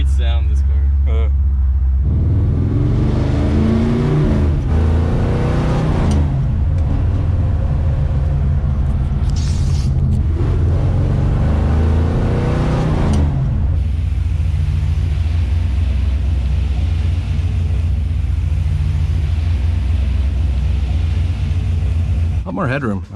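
The cammed 350 V8 of a 1955 Chevy Bel Air revs in bursts, rising and falling several times over a loud, rumbling idle, with people talking over it.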